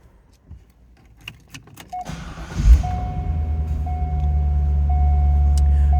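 A 2001 Chevrolet Corvette coupe engine cranks and fires at about two seconds, then settles into a steady, close, deep idle, preceded by faint clicks and key rattles, with a chime tone over the idle.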